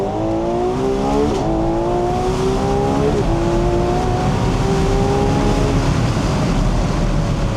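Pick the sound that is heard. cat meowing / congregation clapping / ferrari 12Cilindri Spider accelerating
ferrari 12Cilindri Spider accelerating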